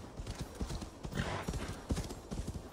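Rhythmic clip-clop of horse hooves trotting steadily in the video game Assassin's Creed Valhalla, close and clear, with a brief whinny partway through.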